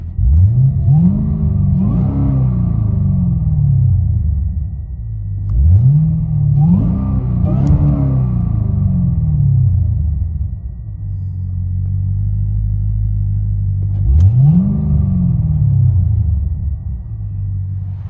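Supercharged 6.2L V8 in a 2009 Cadillac CTS-V with dual exhaust, X pipe and Black Widow Race Venom mufflers, revved three times in deep rising roars that fall back to a loud, steady rumbling idle.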